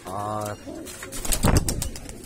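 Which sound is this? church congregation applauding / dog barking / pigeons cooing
pigeons cooing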